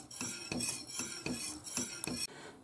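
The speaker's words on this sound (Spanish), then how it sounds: "ahora lo apagamos del fuego y seguimos moviéndolo durante unos minutos" A spoon scrapes and knocks around a pot of thick crema catalana custard off the heat, striking the metal in a steady rhythm of about six close, clear strokes.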